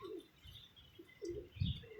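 Pigeons shut in a box during rain give soft, low cooing calls, faint and intermittent, with a few brief higher chirps and no talk over them.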